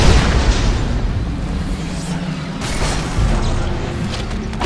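An explosion in the video game Dead Space 3, a loud sustained roaring boom with rumbling debris that swells again near the end, heard close and filling the whole moment.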